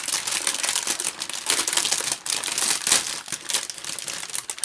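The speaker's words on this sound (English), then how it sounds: "I must admit I hate the noise of rustling bags." Plastic resealable bags holding parts of an HKM 1/32 scale B-25J Mitchell model kit rustle and crinkle loudly and continuously, close up, with bursts of sharper crackling throughout.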